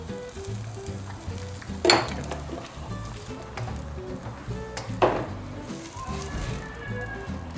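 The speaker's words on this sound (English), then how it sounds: "So you stir while you put in your beans." Beans are stirred into a loudly sizzling pot while cooking Bubal, a Bokkos dish from Plateau, Nigeria. Steady frying hiss runs throughout, with two sharper clattering stirs or pours standing out above it.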